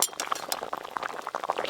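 A metal lid lifted off a pot of boiling banana flower in a home kitchen, with light clinks of the lid against the rim and bubbling water underneath, close and brief.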